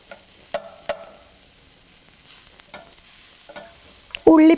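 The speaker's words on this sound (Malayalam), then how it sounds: "ഉപ്പ് ആദ്യമേ ചേർത്ത് കൊടുക്കുമ്പോൾ ഉള്ളി പെട്ടെന്ന് വഴന്ന് കിട്ടും." Onions with salt sautéing in a pan: a soft, steady sizzle broken by a few spatula taps and scrapes, ending in a louder burst of stirring close up.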